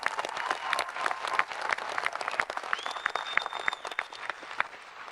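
Graduation crowd at a Seattle University undergraduate commencement bursts into sustained applause, dense steady clapping filling the hall throughout with a few louder claps standing out.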